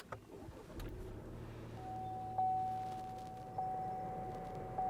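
A 2020 Buick Encore GX is switched on with a brief thump, followed by a steady low idle hum inside the cabin and a series of clear, evenly spaced electronic chime tones.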